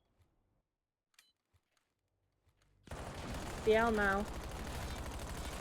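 Rapid automatic gunfire in a Black Ops 7 first-person shooter esports grand final, a dense burst breaking in loud after near silence and running to the end, with a caster talking over it.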